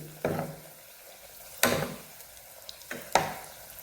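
Oil ladled over wheat-flour chirote frying in a pan, three distinct splashing pours followed by a soft crackle, close and moderately loud with quiet frying between them.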